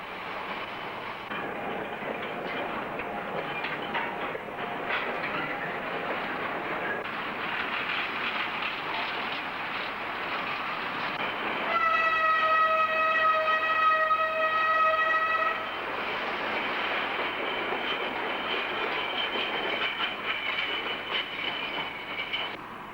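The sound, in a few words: narrow gauge work train running on rails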